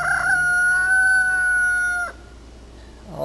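A rooster crows loudly and close by, one long drawn-out call lasting about two seconds, followed by a short pause and the start of another crow.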